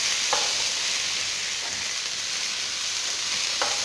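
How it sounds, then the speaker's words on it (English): Green peas and mixed vegetables stir-fry in a hot pan with a loud, steady broadband sizzle, with a few faint scrapes of stirring heard close up. "So next I'm going to add the green peas. Right? Then I'm going to stir."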